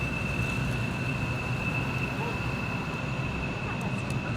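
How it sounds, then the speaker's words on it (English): Train passes at night near a campsite at Larrabee State Park, a steady low rumble and roar holding throughout at moderate distance, with a faint thin tone above it and no talk. "you don't really realize the sound of the train sounds like a scary movie soundtrack"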